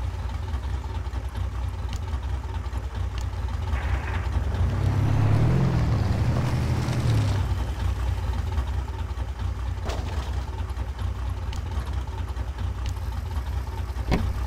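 Truck engine in the Spintires off-road driving game, a steady low mechanical drone that swells louder for a few seconds then settles back, with no talking.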